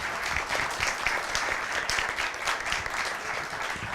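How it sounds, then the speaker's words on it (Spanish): Audience applause at a talk by Gabriel Rodríguez, steady dense clapping from a crowd filling the room, moderately loud and unbroken for the whole stretch with no voices over it. "Un aplauso para Gabriel, por favor."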